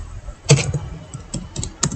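Typing a database query on a computer keyboard produces a few sharp, close key clicks spread over two seconds, loud and clear with no talking over them.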